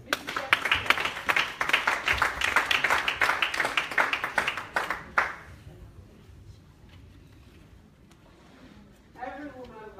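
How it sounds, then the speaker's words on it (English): Audience at a women's summit applauding a speaker, close, dense clapping for about five seconds before it fades out, followed by quieter room sound and a voice speaking at the end. "Can we give her a round of applause?"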